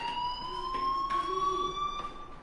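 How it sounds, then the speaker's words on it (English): A fire alarm in the video game Life Is Strange rings as a steady, piercing electronic tone with a few faint swells behind it, sustained throughout without speech. "Hey, do you hear that fire alarm?"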